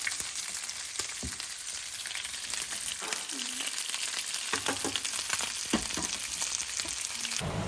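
Confit chicken pieces fry golden brown in a pan, a steady close sizzle and crackle running throughout with a few small clinks, no voices over it.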